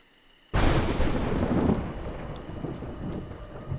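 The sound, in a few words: thunder in the video game A Juggler's Tale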